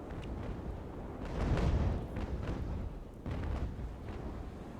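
Ship cannon fire in the naval game Ultimate Admiral: Age of Sail, a series of deep rumbling booms and bursts, some overlapping, over a low continuous battle rumble.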